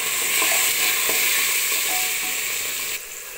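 Jackfruit pieces fry in a pan in Chapra-style katahal sabzi, giving a steady, close sizzle and crackle throughout, with one softer drop in level near the end and no talk.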